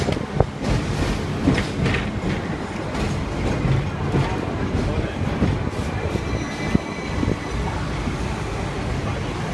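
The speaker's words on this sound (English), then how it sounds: "We're getting a tram to Victoria Peak, which we're going to go up on another tram." A tram on the way to Victoria Peak rumbles along its rails with a loud, continuous roar, rattles and occasional clacks, while passengers talk over the noise.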